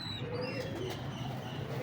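A sturdy domestic pigeon, a hen close to laying with shiny eyes and full royal feathering, coos softly and repeatedly at close range over steady low background noise.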